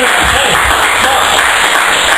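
Audience at a small club gig applauding the band, a brief burst of dense clapping with a steady hiss of crowd noise, loud and continuous for a couple of seconds.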